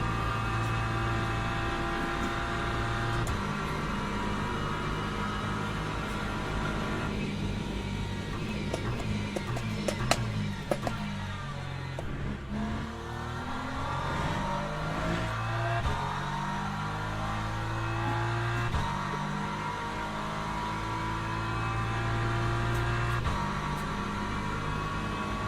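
Hypercar engines from the Le Mans Ultimate racing game drone and whine continuously, with rising and falling pitch as cars accelerate and pass, steady and loud throughout with no talking.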